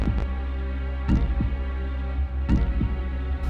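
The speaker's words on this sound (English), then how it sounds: "admiring its eerie CG stillness as you listen to your faint, bit-crushed heartbeat" A faint, bit-crushed heartbeat from the video game R?MJ: The Mystery Hospital throbs in regular double beats about every 1.4 seconds over a low, steady hum, with no talking.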